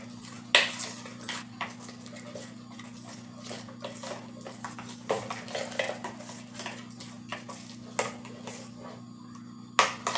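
A spoon clinks and scrapes in a bowl while bread snack batter is mixed with turmeric and carom seeds. The taps come irregularly and close at hand over a steady low hum, with no voices.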